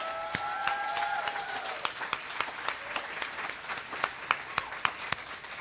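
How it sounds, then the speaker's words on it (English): An audience gives a sustained round of applause after a talk, steady dense clapping with a few sharp nearby claps standing out; a brief tonal trace sounds near the start. "Can I have another big round of applause for her, please?"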